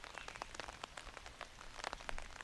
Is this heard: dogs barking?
no